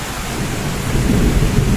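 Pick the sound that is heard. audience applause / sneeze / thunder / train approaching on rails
thunder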